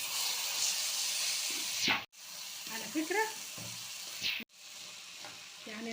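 Rice tipped into a hot oiled pan for Egyptian-style rice sets off a loud frying sizzle and hiss, with stirring scrapes and two brief breaks in the sound.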